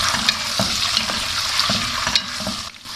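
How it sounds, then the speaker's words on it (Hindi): Chicken pieces sizzle and fry in a pan over light golden onions while being stirred, a steady close hiss broken by the occasional scrape and clatter of the spoon, with no voices. "1-2 मिनट मैंने चिकन को फ्राई कर लिया है"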